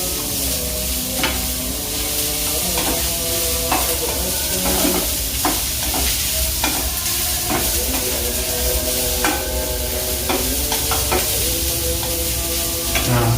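Qurban beef steak sizzles steadily in a pan with onion, and a spoon scrapes and stirs in repeated clatters over the constant frying hiss, close and loud with no talking.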